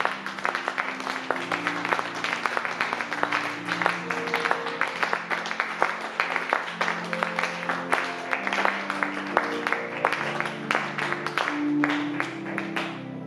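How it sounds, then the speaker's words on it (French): A church congregation claps and cheers for Jesus, a dense and steady patter of hands over sustained music, moderately loud and filling the whole stretch. "Est-ce que tu peux bien acclamer pour Jésus?"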